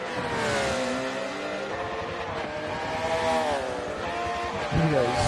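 A race car in a sim racing game revs and accelerates on an online racing league track, a steady rising engine whine with a swell near the end, with commentary talking over it.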